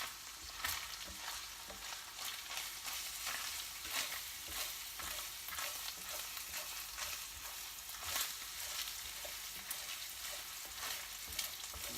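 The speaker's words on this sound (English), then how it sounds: "That's the sound of browning." Beef mince sizzles and crackles steadily as it browns in its own fat in a hot frying pan, with occasional scraping stirs, close and continuous with no voices.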